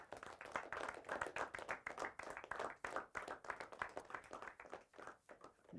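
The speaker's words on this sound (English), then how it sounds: "Gentlemen, give yourselves a round of applause." Basketball team clapping for themselves at a league championship ceremony, a cluster of close, uneven handclaps in bursts that thin out toward the end, fairly quiet overall.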